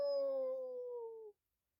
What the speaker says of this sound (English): Dogs howled